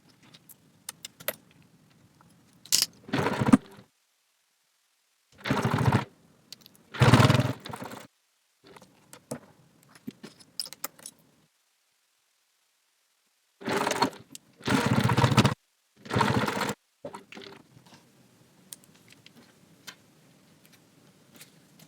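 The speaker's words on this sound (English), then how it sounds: "let's go to the sewing machine and sew with a 1/4" seam allowance" A domestic sewing machine stitches a quarter-inch seam in several short, loud running bursts separated by quiet pauses, with faint clicks and handling between runs.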